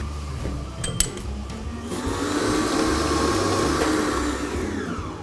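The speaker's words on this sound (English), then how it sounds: "And then turn it up and mix it for another 30 seconds." Electric mixer whirring through cupcake batter with added coconut cream, starting lower and then turned up to a steady loud motor drone that holds for several seconds, close by and without speech.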